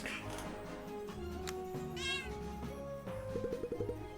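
A cat meows in the video game Cat Quest 2, heard over busy game music and sound effects, with a short upward meow near the middle of the stretch.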